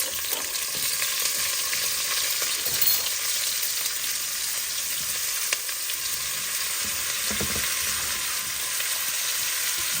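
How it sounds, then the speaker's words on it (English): Onions and garlic fry in bacon grease with a little vegetable oil, a loud, dense, steady sizzle heard up close with faint stirring and no talking. "we're going to go ahead and add our onions and garlic"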